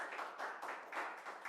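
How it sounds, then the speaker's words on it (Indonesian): A brief, faint burst of clapping from a seminar audience on renewable energy in Indonesia, soft rhythmic claps pulsing a few times per second in a short spell. "di sini boleh tepuk tangan dulu"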